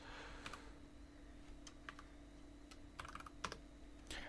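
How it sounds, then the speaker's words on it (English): Keys clattering on a computer keyboard while coding a Pong game in Love2D, quick uneven bursts of clicks over a low steady hum, faint and with no voices. "So let me type this in all caps, paddle underscore width."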